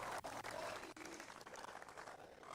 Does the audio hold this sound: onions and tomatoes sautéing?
no